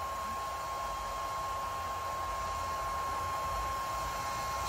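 A Longer B1 30W laser cuts through 10 mm wood in one pass, giving a steady, even hiss with a constant fan-like hum underneath, moderately loud and unchanging throughout with no talk.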